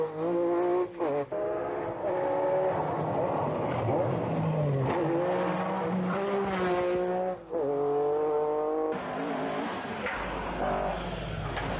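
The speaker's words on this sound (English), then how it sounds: "Getting the most out of his Opel Manta" An Opel Manta rally car is driven hard on a 1986 British Open Rally Championship stage. The engine revs loudly, rising and falling through repeated gear changes, close and continuous, with no voices.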